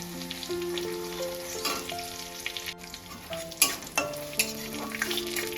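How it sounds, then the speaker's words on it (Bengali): Nigella seeds and crushed garlic fry in hot oil in a Bengali kitchen, a close, steady sizzle broken by several sharp scrapes and clinks of stirring. No talking is heard. "কালো জিরেটা একটু ভাজা হয়ে এলে আমি এর মধ্যে দিয়ে দেবো 4 থেকে 5টা কোয়া রসুনের থেতে"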